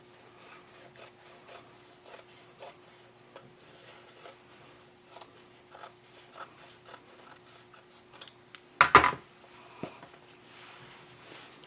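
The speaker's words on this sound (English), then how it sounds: "So I'm going to go ahead and cut along this seam here." Scissors snip along the seam of old jeans in a quiet room, a run of small rhythmic crunching cuts followed by a sharper louder burst of handling near the end.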